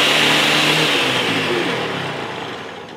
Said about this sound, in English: we're gonna blend that for another about 20 seconds